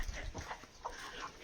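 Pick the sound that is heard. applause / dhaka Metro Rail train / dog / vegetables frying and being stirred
dog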